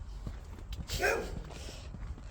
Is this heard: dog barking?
yes